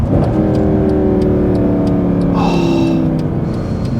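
A Mercedes-Benz C63 AMG Black Series V8 roars loudly and steadily as it accelerates, its engine note rising under load, then easing off with a brief burble near the end, heard close and with no talking.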